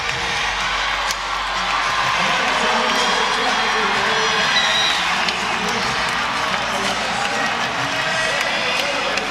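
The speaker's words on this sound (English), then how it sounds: "Loud cheer from the crowd as she heads to the bench." A large arena crowd at a women's volleyball regional final between Louisville and Oregon roars with sustained, loud cheering and shouting that holds steady for the whole stretch, with no let-up.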